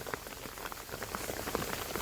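Rain falling in a village during a monsoon downpour, with steady patter and distinct drops striking nearby surfaces, heard close with no talk.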